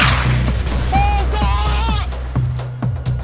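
Mortar explosions in a video game, with repeated heavy booms and a low rumble under high, wavering scream-like tones, loud and close throughout.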